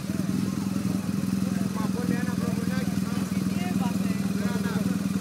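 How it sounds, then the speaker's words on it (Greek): A BMW R 1200GS motorcycle engine starts and runs steadily nearby with a rapid, rough idle and some rattling clatter, loud and continuous throughout, in Lavrio, Greece. "Βάλτε το μπροστά το μηχανάκι."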